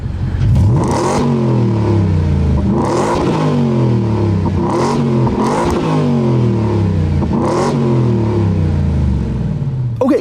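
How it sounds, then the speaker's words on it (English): A 2023 Ford Raptor R pickup truck's exhaust in sport mode revs repeatedly, each loud, close blip rising and falling in a steady rhythm of about five throttle stabs. "the changes in exhaust note for this truck are absolutely unbelievable"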